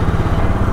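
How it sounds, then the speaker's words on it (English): A Royal Enfield Bullet 500 motorcycle engine runs close and steady, a loud low thumping throb with faint clatter that holds evenly for under a second. "Hope he's not scared of the engine."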